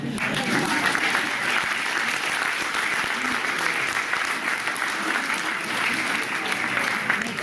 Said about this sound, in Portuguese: eu peço a todos uma salva de palmas às senhoras desta sala.